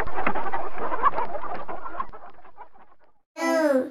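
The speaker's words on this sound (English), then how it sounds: "H for hen" A hen clucks in a quick run of short calls, then gives a single louder, sharper squawk after a brief pause.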